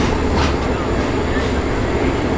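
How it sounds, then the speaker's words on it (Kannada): The Panchganga Express, running KSR Bengaluru to Karwar, crosses at Yesvantpur railway station with a loud, steady roar of wheels and carriages that fills the whole moment without letup. "Panchganga express crossing at Yesvantpur railway station"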